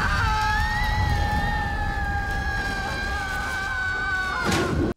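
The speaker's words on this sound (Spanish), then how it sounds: "Al menos Brendan conserva sus gritos icónicos." Brendan Fraser screams in the animated film Sinbad: Beyond the Veil of Mists, a long, loud, sustained yell held for several seconds amid a dense film soundtrack, ending with a sharp burst.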